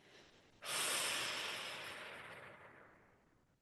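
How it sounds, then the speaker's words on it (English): A single long, slow exhale through the mouth during a guided breathing exercise, a close breathy rush that starts abruptly and fades gradually over about three seconds. "this time we're going to exhale slowly, slowly, slowly"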